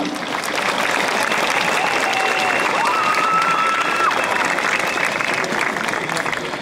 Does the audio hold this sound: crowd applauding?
yes